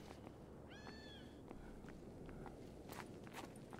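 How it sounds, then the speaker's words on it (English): A cat meows once in the Stalker GAMMA video game, a faint distant call with soft footsteps and light ambient noise around it. "I do hear cats over there."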